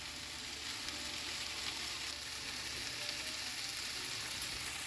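Oregano and other spices frying gently over turned-down heat in a pan, a steady, soft broadband sizzle that holds evenly throughout without pauses or voices.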